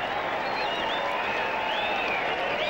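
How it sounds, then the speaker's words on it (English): A cricket crowd applauds a batsman during a 1995 one-day international in Auckland, a dense, even wash of distant stadium clapping with faint whistles drifting over it. "Ken Rutherford gets a big round of applause"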